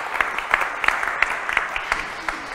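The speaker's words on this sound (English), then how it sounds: "We'll give them a round of applause." Congregation in a church clapping as a round of applause, a short, moderately loud patter of many hands with a few sharper claps standing out.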